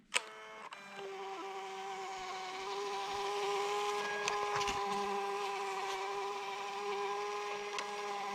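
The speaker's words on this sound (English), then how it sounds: "I'm going to print my labels from my phone via the Bluetooth printer" A small Bluetooth label printer whirs with a steady high-pitched motorized buzz for several seconds after a sharp click, running continuously without pause.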